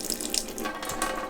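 A small sink faucet on a sailboat, fitted with a UV sterilizer, runs a steady stream of water into the basin, close and continuous with a hissing splash.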